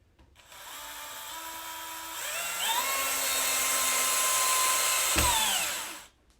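A power drill/driver drives a screw into a molly joining aluminum rods of a five-layer chick brooder, a steady whine rising in pitch as it spins up, then winding down and stopping after several seconds, close and loud.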